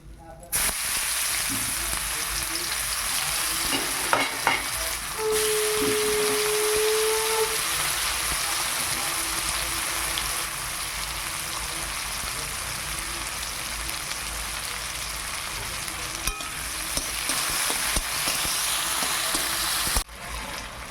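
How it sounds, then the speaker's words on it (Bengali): Onion and tomato fry in a pan in a village kitchen, a constant crackling sizzle like light rain that holds steady throughout. A few clinks and brief background sounds rise over it. "পেঁয়াজ টমেটোটা ভাজা হয়ে গেছে, এবার আদা রসুন বাটাটা দিয়ে দিলাম"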